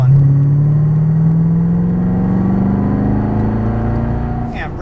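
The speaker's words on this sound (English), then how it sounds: "Squeeze the throttle, keep it going." A Chevrolet Corvette Stingray accelerating on a Las Vegas race track, its engine note climbing steadily in a loud, close, continuous rev from inside the car, with faint voice instruction underneath.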